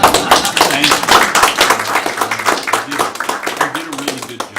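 Audience at a city council meeting giving a rousing round of applause, loud and close with sharp individual claps, mixed with voices speaking over it.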